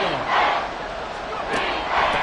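The crowd at Arrowhead stadium roars loudly during a Chiefs versus Broncos football game, a broad continuous swell of cheering with surges, under a commentator's voice.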